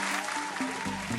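Quiz show audience applause, a fairly quiet, even patter of clapping heard over a low sustained musical tone, with no speech on top.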